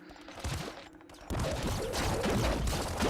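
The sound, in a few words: plasma rifle firing in Nuclear Throne video game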